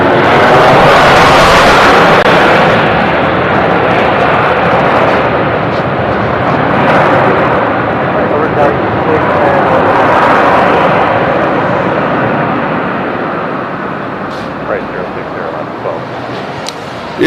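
An airliner arriving from Calgary at Nashville International Airport makes a loud, broad jet roar that swells early, then slowly fades and thins out as it passes.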